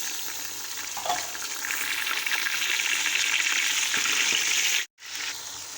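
Tomatoes hitting hot oil in a frying pan for mung dal, a loud, steady, close hiss of frying that runs nearly throughout, with one brief cutout near the end.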